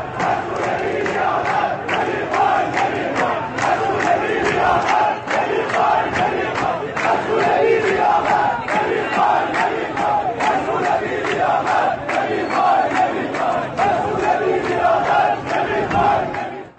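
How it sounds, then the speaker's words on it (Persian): A large crowd of protesters in Khorramshahr, rallying over the city's water shortage, chants slogans in a loud, steady rhythmic cadence, many voices shouting together continuously with repeated beats. "آنها شعار می‌دادند: مسئول بی‌لیاقت، نمی‌خوایم، نمی‌خوایم."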